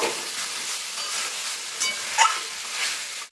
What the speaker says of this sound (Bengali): তো মশলার সঙ্গে ভালো করে মাংসটা আমি কষিয়ে নেব।